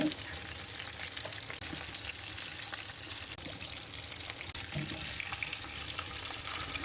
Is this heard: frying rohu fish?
yes